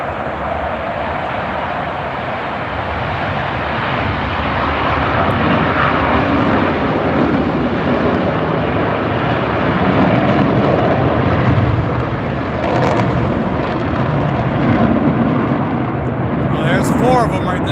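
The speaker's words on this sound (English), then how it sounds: "Blue Angel's getting ready to take off." Blue Angels military jets starting up and taking off, a loud continuous broadband engine roar that stays steady throughout, with people talking faintly underneath.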